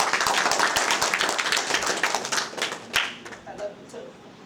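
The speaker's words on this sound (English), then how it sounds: "Give them a good clap." An audience claps in a rapid, dense burst of many hands that thins into scattered claps and fades out, heard fairly near with faint voices mixed in.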